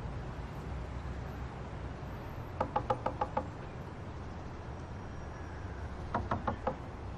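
Knuckles rap on a door in two bursts of about five quick knocks each, separated by a pause, crisp and moderately close over a steady background hiss.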